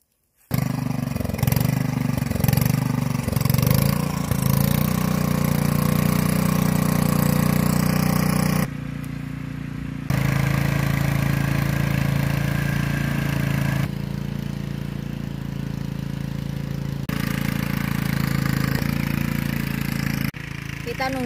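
A tractor engine runs steadily in a backyard garden during potato planting, a loud continuous low rumbling drone that drops away briefly mid-stretch and then returns, with voices talking faintly beneath it.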